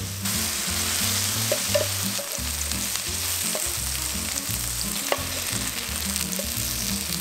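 Pork belly frying in its own rendered fat during a tofu kimchi stir-fry, giving a constant dense crackling sizzle with a few sharper pops, steady and close, and no voices.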